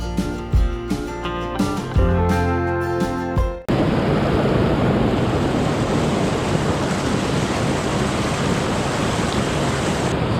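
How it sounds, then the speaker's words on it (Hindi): Monsoon-season mountain waterfall in Uttarakhand, a steady, loud, broadband rush of falling water that starts abruptly and continues unbroken, close by and with no other sounds over it. "वाटरफॉल, मतलब पहला वाटरफॉल हमें मिल गया है"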